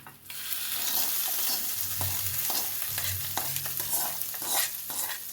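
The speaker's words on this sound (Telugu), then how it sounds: "తాలింపు వేసి కలిపేయండి." Sizzling tempering stirred into an amla pickle, with a hissing crackle and repeated spoon scrapes and clinks against the pan, close and continuous and without talk.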